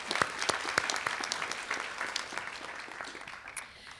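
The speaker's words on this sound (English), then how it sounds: "One more round of applause for our Board of Trustees scholars." Applause at an adult education graduation ceremony for scholarship recipients, a crowd clapping briskly and steadily, close and sustained, tapering slightly at the close.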